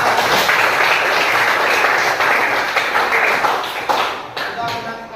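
A classroom applauds, with steady, loud clapping from many hands for about four seconds before it fades and scatters out.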